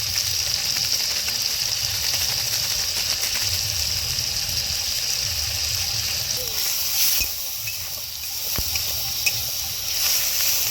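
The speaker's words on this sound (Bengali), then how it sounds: "তো এখন আমাদের মাছের ঝোলের জন্য মশলা পুরো কষে গেছে" Chopped onion, tomato, green chili, cumin powder and dried chili powder frying in oil for a fish curry, a steady close sizzle with occasional stirring scrapes.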